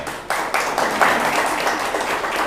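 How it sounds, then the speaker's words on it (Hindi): An audience at a distributor training program breaks into steady, dense applause that starts abruptly and holds at a fairly even level for a couple of seconds. "इन प्रोडक्ट्स के लिए एक बार जोरदार ताली बजाओ"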